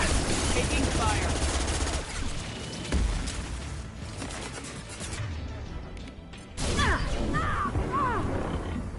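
Mass Effect 2 combat fills the scene with dense automatic gunfire and crashing impacts, loud and close, with bursts that rise and fall and a brief lull before the firing resumes.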